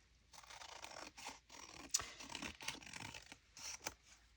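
Scissors cut down a glued paper envelope for a window-envelope ephemera craft, giving close, quiet, irregular snips and papery crinkling strokes with short pauses between them.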